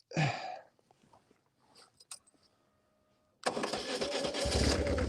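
A motorbike engine is started with the starter, first as a brief cough that fails, then a pause filled with small handling noises, and finally a loud steady rumble as it catches and keeps running close by.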